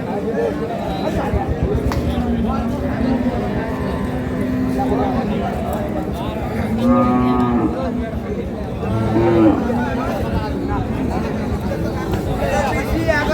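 Dairy cows and calves of Sahiwal, Sindhi and local breeds lowing at a busy village cattle market, several drawn-out moos rising over a steady babble of nearby voices and livestock shuffling.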